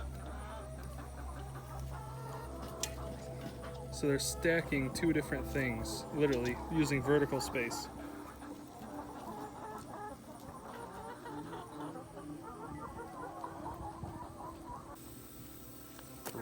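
Chickens cluck and murmur steadily in a raken house on a farm, with rabbits housed above the chickens over deep mulch. Someone talks over the birds throughout.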